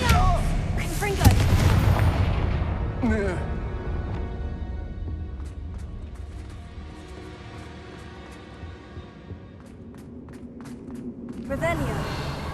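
Booming Confringo fire spell blasts go off in Hogwarts Legacy, a heavy explosive burst opening the scene followed by further bangs and crackles, with a character's voice speaking between them.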